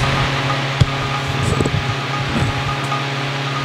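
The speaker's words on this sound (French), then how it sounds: "ce ventilateur-là, il fonctionne" An old vintage electric fan, found discarded, hums steadily and strongly at close range with a constant drone and a few faint clicks and rattles, no voices.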